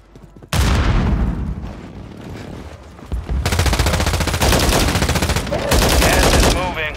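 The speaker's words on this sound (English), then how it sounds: "Throwing grenade." A grenade blast and bursts of automatic gunfire in Call of Duty Warzone, a loud sudden boom followed by long, dense rattling volleys close by, with short pauses between bursts.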